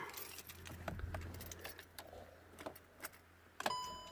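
Keys jangle in the ignition of a VW Scirocco with a previously stiff, hard-to-turn lock, giving a few light metallic clinks and a short click near the end against a quiet background.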